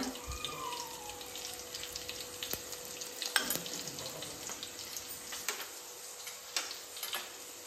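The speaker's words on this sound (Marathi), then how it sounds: "तेल गरम झालेलं आहे आणि नानीने त्यामध्ये पहिल्यांदा टाकले लसूण, त्यानंतर आपला आग्रिकोली मसाला" Garlic and Agri-Koli masala fry in hot oil for a crab curry, giving a soft, steady sizzle with faint clicks and light kitchen clatter, quiet and close.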